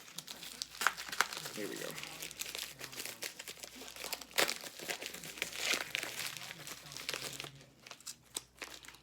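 A sports card package being cut and torn open, a package inside a package, with close crinkling and crumpling of plastic wrap and scattered sharp tears, while a person talks over it.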